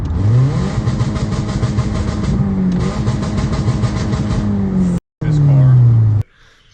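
A Subaru engine with a broken exhaust revs loudly and raggedly with a harsh, rattling blat, rising and falling, then cuts off abruptly near the end.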